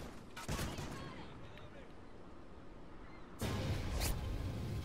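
Bursts of gunfire in the Call of Duty Ghosts Infected mode on PS4: a loud volley near the start, a stretch of quieter background battle noise, then another heavy burst of shots near the end.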